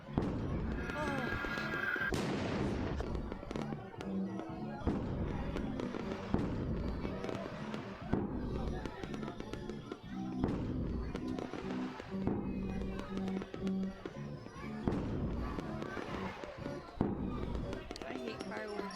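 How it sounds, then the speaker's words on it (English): Loud fireworks in a video game crackle and boom continuously, dense overlapping bursts filling the scene, with a voice talking underneath. "I hate fireworks this loud."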